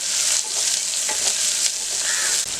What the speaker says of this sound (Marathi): फोडणी चांगली परतून घेऊया।